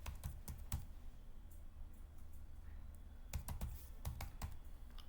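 Keys clacking on a computer keyboard while a Python loop program is typed, a quiet run of quick taps with a few louder bursts across about five seconds.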